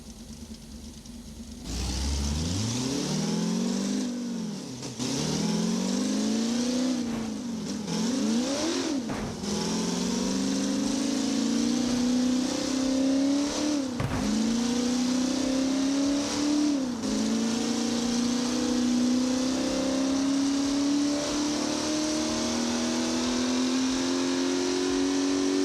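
A C5 Corvette Z06 in BeamNG Drive runs flat out on a dyno, the engine climbing steadily through the gears to 5th with brief dips at each shift, loud and close throughout.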